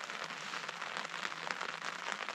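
Rain patters steadily on an emergency shelter at night, a close, continuous wash of fine drops with no voices or other sounds.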